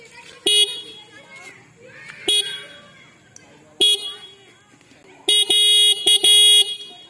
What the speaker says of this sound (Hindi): तो अब मैं इस बाइक का एक हॉर्न टेस्ट करता हूँ कि कैसा साउंड करता है